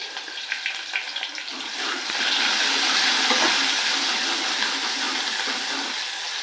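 Cumin, mustard seeds, onion, curry leaves and garlic-ginger paste hit hot oil in a pan, starting with a few crackles and then swelling into a steady, loud hiss that holds to the end.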